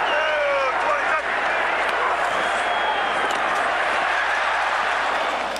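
A large stadium crowd roars steadily and loudly at an NFL football game between the Washington Redskins and Dallas Cowboys in 2005, a sustained, dense wash of cheering with a commentator talking faintly underneath.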